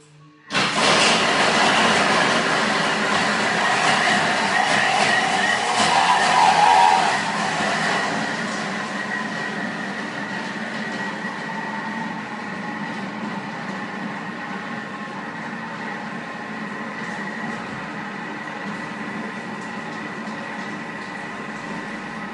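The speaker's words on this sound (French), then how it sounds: "ça va faire un peu de bruit, vous vous en doutez, parce que là, je vais mixer donc 25 secondes, vitesse 10" Thermomix blending marble cake batter with chocolate at speed 10, a loud, steady mechanical roar that starts abruptly, peaks for several seconds, then settles into a slightly softer continuous whir that runs to the end.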